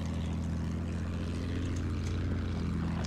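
A fighter plane in the World War I shooter game Battlefield 1 drones overhead as a steady, loud propeller-engine roar filling the scene without break, with no speech.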